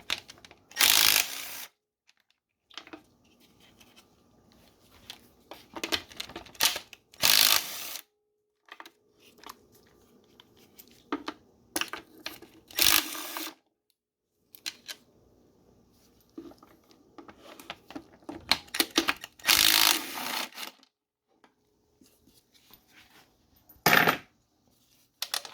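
A ratchet clicks in repeated bursts while nuts and bolts are removed from the wiring harness of an Acura TSX, the short rapid clatters separated by quiet pauses and occasional handling noises.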